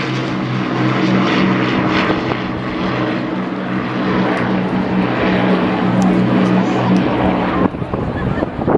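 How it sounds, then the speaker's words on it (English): An Avro Lancaster bomber at a seaside air show drones past in a loud, steady multi-engine propeller roar that holds for several seconds before easing off near the end. "So here departing now, please give them a massive wave, a flying memorial to the men of Bomber Command. the Lancaster."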